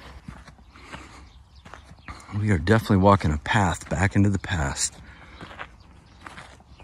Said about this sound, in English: Here comes some horses, see?